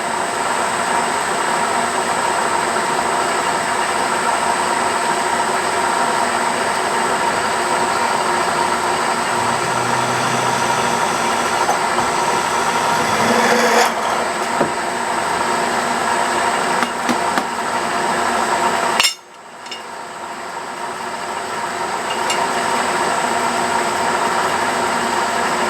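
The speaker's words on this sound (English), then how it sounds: "I'll be drilling through about," Steady, loud machine grinding and whirring from drilling through about two feet of steel runs continuously for a long stretch, with a dense broadband roar, then abruptly cuts out briefly before resuming.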